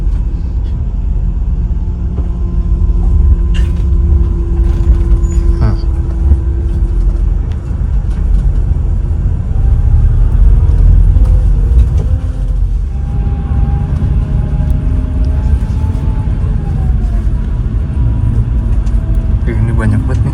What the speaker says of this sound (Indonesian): Ini banyak banget nih bis-bisnya.